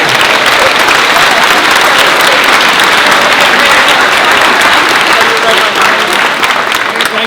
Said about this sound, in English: Let's have a round of applause for our keynoter panel